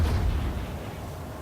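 Naval gunfire from the guns of the USS Phoenix, an American tier 4 cruiser in World of Warships: one deep, booming salvo that fades into a low rumble, loud and close.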